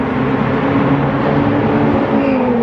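A race car, likely a Ferrari 488 Challenge Evo, comes around the Spa-Francorchamps circuit. Its steady, loud engine note holds throughout this short stretch.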